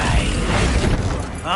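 A Bombarda blasting spell explodes in the Hogwarts Legacy video game, a loud, dense burst of crackling debris and rumble sustained through the moment, with game voice dialogue mixed in.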